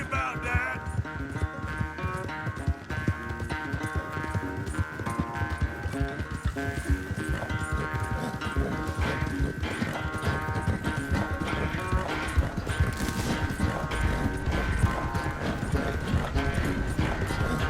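Steady, rhythmic hoofbeats of a galloping horse ridden in Red Dead Redemption 2 clatter continuously and close up, with a background musical score and no pauses.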